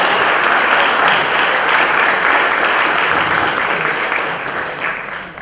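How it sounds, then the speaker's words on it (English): An audience claps loudly and steadily, a dense wash of applause that holds for several seconds before starting to fade. "Everyone please give them a round of applause as they come back."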